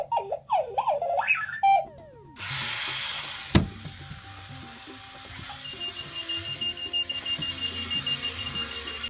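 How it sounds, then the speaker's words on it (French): A Clocky runaway alarm clock on wheels gives R2-D2-style warbling electronic bleeps, followed by a sharp knock and a background hiss with a faint steady tone. "Lorsque l'alarme du réveil programmé sonne, Cloaky se met à rouler dans tous les sens en émettant son bip bip de R2D2"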